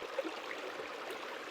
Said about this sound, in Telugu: ఎంత అద్భుతంగా జలకళ వినిపిస్తుందో మనం